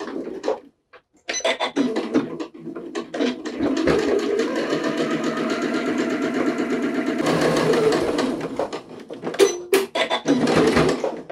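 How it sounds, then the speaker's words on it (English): A sewing machine runs a narrow line of top stitching along the folded edge of a fabric 3D face mask: a close, rapid mechanical whirring chatter in sustained bursts, framed by brief pauses and small handling clicks. "I'm going to top stitch right down next to this folded edge"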